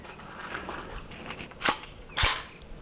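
A 9mm pistol caliber carbine fires 147 grain flat nose rounds on an outdoor range: two sharp reports about half a second apart, heard at middle distance over quiet background noise, with no talking.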